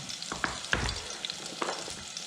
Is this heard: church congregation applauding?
no